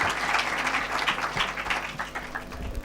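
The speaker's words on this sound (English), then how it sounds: "Let's give him a round of applause." Steady applause from a sizeable audience at a children's climate summit, dense and sustained clapping at moderate volume for a few seconds with no voices standing out.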